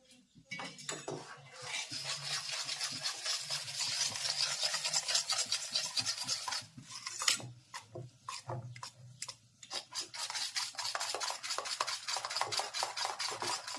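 Spoon stirs and mixes pudla batter with spices in a bowl, a steady scraping, clinking rhythm of close metal-on-bowl strokes running throughout, with brief pauses.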